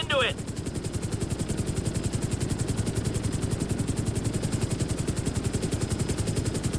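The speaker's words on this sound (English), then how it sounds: "I need you to hold the chopper above it while I take a look." Helicopter hovering in the video game GTA 5, a steady rapid rotor chop with engine whine that stays close and loud throughout, a brief high tone near the start.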